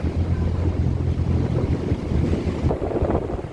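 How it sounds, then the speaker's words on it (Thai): A sand-carrying boat passes on a river, its low engine rumble steady and loud, mixed with wind buffeting and rushing water. "เรือบรรทุกทราย"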